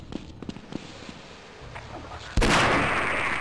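A gunshot in the Half-Life video game cracks out loud and sharp, then a sustained roar of noise follows, after several softer thuds and clicks of in-game movement.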